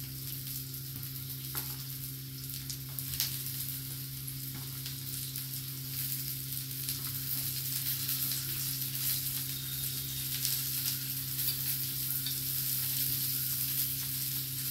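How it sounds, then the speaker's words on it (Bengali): Onion and garlic fry in a pan, giving a steady, close sizzle with a constant hiss that holds throughout and no speech. "পেঁয়াজ রসুনটা আমি ভেজে নিচ্ছি আগে।"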